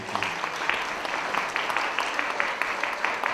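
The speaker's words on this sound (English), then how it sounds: "Do give them another round of applause." Audience applause at a Fitton Center event in Hamilton, a steady wash of clapping with scattered sharper hand claps, moderately loud and continuous throughout.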